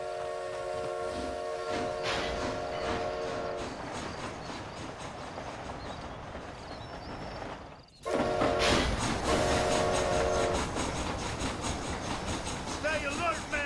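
A steam train from the video game Red Dead Redemption: Undead Nightmare rumbles along with steady clattering and a whistle-like tone, briefly dropping out before resuming louder; voices speak over it.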